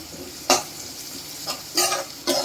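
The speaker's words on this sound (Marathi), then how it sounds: "आपण अर्धा चमचा हळद टाकूया ती पण छान असं तेलामध्ये फ्राय करून" Half a spoon of turmeric fries in oil with sautéed onion, a low sizzle broken by four quick scraping stirs of a spoon in the pan.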